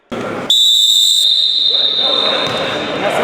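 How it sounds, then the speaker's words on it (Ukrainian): A sharp, shrill referee whistle blast starts a veterans' futsal match, ringing out and holding for several seconds over the murmur of a crowd in a large indoor hall. "Арбітр матчу дає свисток, і команди починають гру."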